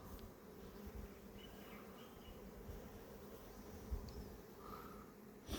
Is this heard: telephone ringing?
no